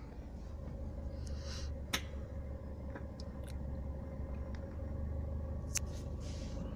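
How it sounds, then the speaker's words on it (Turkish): A 2000 Renault Twingo Alize engine just started, idling with a steady low drone, with occasional faint clicks and taps over it. "Evet aracı çalıştırdık."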